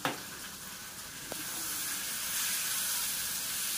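Red chilli powder, turmeric, coriander and cumin masala sizzling and frying in a pan for a simple vegetable dish, a steady close hiss that grows slightly louder, with one small clink near the start.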